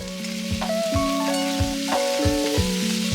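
Potatoes and onions sizzle steadily in a hot frying pan, a constant close crackle under background music with no talking.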